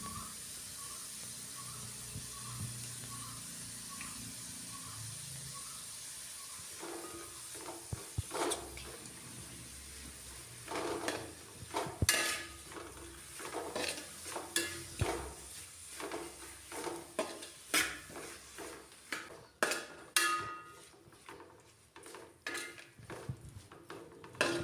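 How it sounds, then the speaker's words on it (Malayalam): Salt and turmeric powder being stirred into food in a pan: scattered scraping and clinking of a utensil against the pan, sparse at first and then quicker and denser, over a steady low hiss. "കുറച്ച് ഉപ്പുപൊടിയും മഞ്ഞൾപ്പൊടിയും കൂടി ചേർത്ത് ഒന്ന് മിക്സ് ചെയ്തെടുക്കാം."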